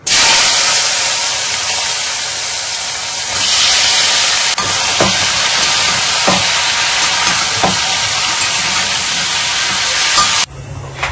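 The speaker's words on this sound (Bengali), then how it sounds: "কড়াইয়ে তেল দিয়েছি, একসাথে সব সবজিগুলো নুন আর হলুদ দিয়ে একটু কম আঁচ করে খানিকক্ষণ ধরে ভেজে নিই।" Mixed vegetables fry in oil in a wok with salt and turmeric over low heat, a loud, constant close sizzle and hiss with occasional stirring clatter, ending abruptly.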